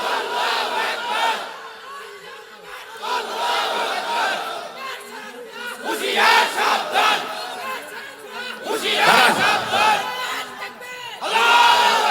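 Large crowd at an Islamic waz gathering roaring a Nara-e-Takbir chant, repeated loud massed shouts rising and falling in waves over about twelve seconds.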